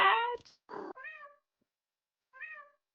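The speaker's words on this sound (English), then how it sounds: "Cat." A cat in the video game JudgeSim meows several times, a drawn-out call followed by shorter mews with a pause before a last one, fairly close and clear against silence.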